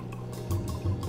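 Canadian whiskey, 40 Creek, being poured for a cocktail, a short liquid splash and gurgle from the bottle into a glass, close and clear with a slightly pulsing flow.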